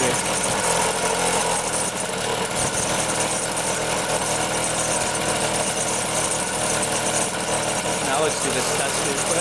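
A Honda Elsinore 50cc motorcycle engine idles without the choke, a loud, close, steady buzzing rattle that runs unbroken throughout.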